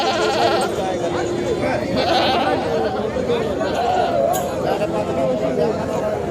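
Goats bleat repeatedly at a busy goat and sheep market in Sangola, several nearby animals calling in wavering cries over a constant murmur of crowd chatter and people talking.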